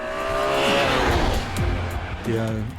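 A BMW M3's 3.2-liter inline six-cylinder engine revs hard toward almost 8,000 rpm with climbing, shifting tones and a rasping roar, dipping briefly before surging again; no voices.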